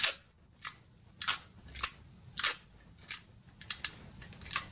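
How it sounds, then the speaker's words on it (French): Adhesive tape torn from a roll in a crafting session: a series of about eight short, crisp crackling rips in an uneven rhythm, close and distinct with no talking. "Et je vais mettre un bout de scotch."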